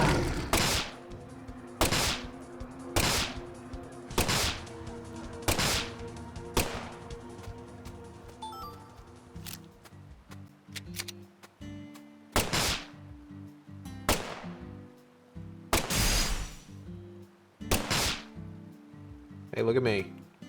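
Gunfire in the video game Deadly Premonition 2, a series of sharp, loud single shots spaced a second or two apart with echoing tails over a musical game background, while a player talks.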